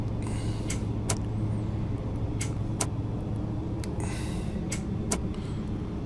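ATR 72-500 turboprop engines in the Prepar3D flight simulator as the throttles come back on approach, a steady low cabin drone with a faint hum and occasional brief clicks and creaks.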